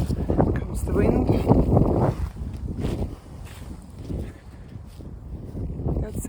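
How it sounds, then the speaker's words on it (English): Gusty wind blowing outdoors over a sunny, windy vegetable garden, a broad loud rush with a strong surge in the first two seconds that eases into lower buffeting, with talk over it. "oops, comes the wind"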